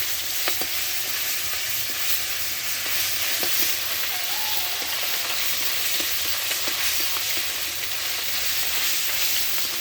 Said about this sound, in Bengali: সেই তেলে শুকনো মরিচ দিলাম 2টা, আর মাছের তেল দিলাম